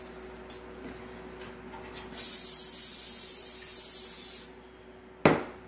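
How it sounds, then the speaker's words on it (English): Cooking spray from a can hissing into a pie pan, one steady burst of about two seconds, close and fairly loud, followed by a short clatter. "I'll put a little spray in the pan."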